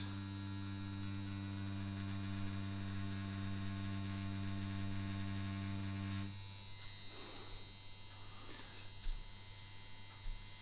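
A Dragonhawk Mast Fold 2 Pro tattoo pen machine on a 3.6 mm stroke runs with a steady, even electric buzz for about six seconds, then stops, leaving quiet handling noises.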